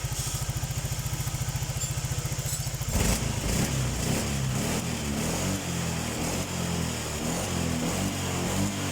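A Honda Vario 125 scooter engine idles with a steady putter, then revs up into a loud, sustained roar.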